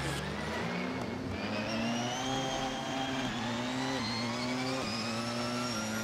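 A race car engine in Assetto Corsa revving hard and shifting rapidly up through its gears, loud and close, the pitch climbing and dropping with each quick upshift, with faint tire squeal and no talk.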